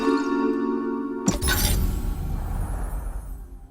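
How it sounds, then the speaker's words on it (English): A single loud shatter of a vase breaking in Lara Croft GO, a sudden crash with scattered tinkling debris fading out, over steady background game music. "So we break the vases and we earn these trophies."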